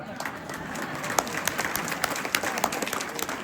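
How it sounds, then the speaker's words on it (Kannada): A crowd of devotees at a village gathering during a religious foot pilgrimage claps together, a dense steady patter of many hands, moderately distant, with speech mixed in. "ಚಪ್ಪಾಳೆ ತಟ್ಟಿರಿ ಅಂದ್ರೆ ಸಿದ್ಧಾರೂಢ ಮೇಲೆ ಪ್ರಮಾಣ ಮಾಡಿರಿ ಅಂತ ಅರ್ಥ"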